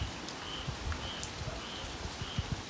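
Rain falling outdoors during Hurricane Francine, a constant soft patter with scattered nearby drops hitting a surface, with faint bird calls in the background.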